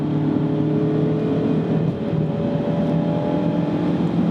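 A bone-stock Mazda Miata RF gives a low, steady engine rumble while driving, mixed with light wind noise. The tone is close and continuous, with a slight dip midway and no talk.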